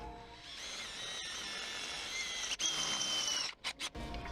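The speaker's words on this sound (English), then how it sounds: "Then I'm going to take a 5/16 inch drill bit. I'm going to drill this guy." A power drill with a 5/16 inch bit whines steadily, its pitch shifting as the bit bites into metal on a Jeep suspension install, then stutters in short bursts before stopping.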